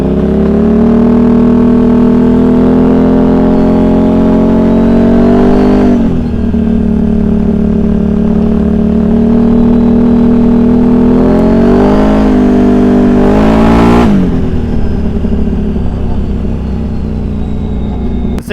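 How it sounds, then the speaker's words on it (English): Tuned, built Can-Am Outlander ATV engine running steadily and loudly up close, a constant droning hum that swells briefly around a couple of quick throttle blips before settling back to an even idle. "Things are already idling beautifully now, just like she should."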